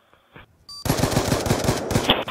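Rapid automatic gunfire from a first-person shooter game, a dense burst of shots fired close and loud after a brief quiet lead-in, with no talk over it.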